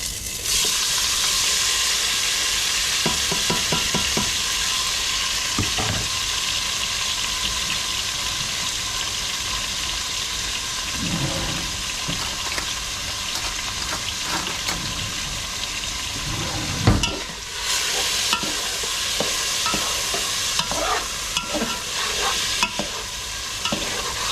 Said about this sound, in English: As you can hear, this is frying, so I'm gonna dump in my shrimp.